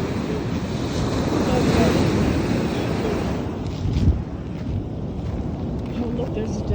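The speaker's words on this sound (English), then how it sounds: "This is the Pacific Ocean." Pacific Ocean surf washes onto a cold beach with steady wind buffeting the microphone, a broad continuous roar that eases slightly partway through, with people talking nearby.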